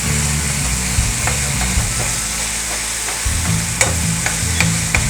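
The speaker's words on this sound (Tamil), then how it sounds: "தக்காளி அப்படி நல்லா மசிச்சு விட்டுக்கோங்க." Tomatoes for shrimp thokku are mashed and stirred in a hot frying pan: a continuous close sizzle with rhythmic scraping and stirring strokes throughout, no voices.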